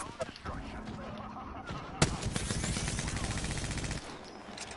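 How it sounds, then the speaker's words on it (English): Gunfire in Apex Legends: a single sharp shot, then a sustained burst of rapid automatic fire for about two seconds over game ambience and faint background noise. "I just shot the side of that building."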